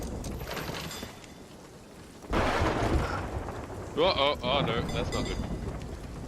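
A lightning strike hits a ship at sea during a Sea of Thieves storm, a sudden loud crack rolling into heavy rain and thunder that stays loud to the end, with players talking over it.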